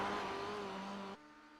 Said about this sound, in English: You can hear it literally just screaming the revs as he comes down